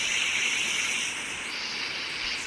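Heavy rain pounds steadily, a dense continuous bright hiss close by with no pauses, alone with no talk.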